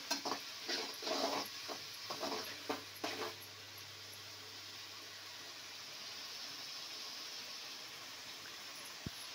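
Vegetables with fried rice masala frying in a pan over high flame: a few stirring scrapes and clinks early on, then a soft, steady sizzle that carries on quietly alone.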